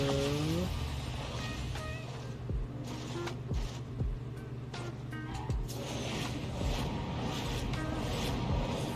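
A Porsche 911 driven in the video game Fortnite, a steady engine drone running throughout with brief whooshes and thumps as it moves, moderately loud with game sounds layered over it.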